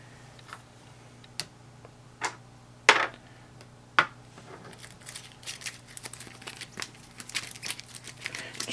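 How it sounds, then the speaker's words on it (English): Sleeved cards from the Web of Spies card game being shuffled at a table: a few sharp isolated clicks and snaps, then a denser run of close, crisp plastic riffling and rustling toward the end. "There's a lot of shuffling in this game"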